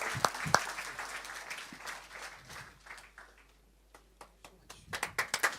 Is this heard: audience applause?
yes